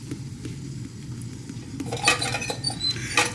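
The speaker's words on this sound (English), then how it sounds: "Let's get them plated." Baked sweet potatoes lifted from a rice cooker onto a plate, a brief spell of clinking utensil-on-dish sounds and scraping, close and moderately loud over a steady low kitchen hum.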